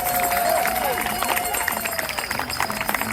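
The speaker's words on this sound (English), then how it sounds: "Let's give them a round of applause" Rally crowd at a No Kings protest in Pinole clapping together, a dense patter of many hands mixed with murmuring voices and scattered whoops, fairly close and continuous.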